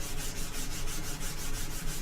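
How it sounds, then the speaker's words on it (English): Steady, rhythmic wet sanding of airbrushed paint on resin art using rubbing alcohol, a soft repeated rasping at a regular pace, close and fairly quiet. "now I'm basically wet sanding with rubbing alcohol to get back down to white"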